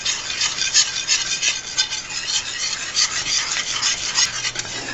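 A spoon stirring a thick cream cheese and powdered sugar sauce in a pan, a steady close scraping and rubbing that repeats in quick strokes without pause, with no voices.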